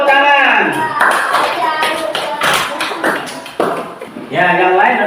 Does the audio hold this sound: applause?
yes